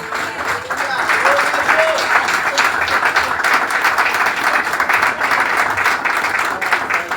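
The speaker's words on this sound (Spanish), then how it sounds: "fuerte aplauso al Padre." A church congregation claps for the priest in a full, sustained round of applause that stays loud and even from start to finish.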